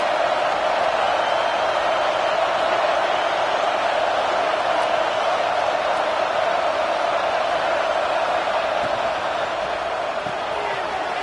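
A football stadium crowd at an LSU Tigers game roars steadily throughout, a dense, loud, continuous wash of many voices that stays at an even level and only eases slightly near the end.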